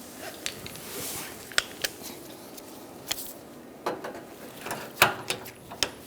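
A socket ratchet loosens the lower radiator bolts on a 2012-2017 Hyundai Accent with a 12mm socket, giving sparse, light clicks and metallic ticks over a quiet background, with no talking.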